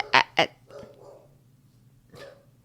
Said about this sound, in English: Our dog sees a squirrel in the backyard. That's pretty loud.